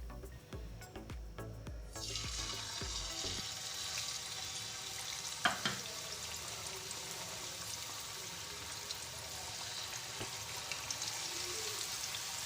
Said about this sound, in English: Now it's time to fry it.